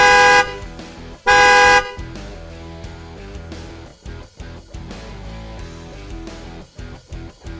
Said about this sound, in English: honk the horn before backing up.